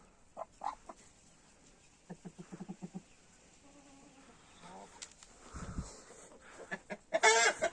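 Chickens cluck in short bursts with a rooster call, nearby poultry sounds scattered over several seconds as the hens squabble, with a louder flurry near the end.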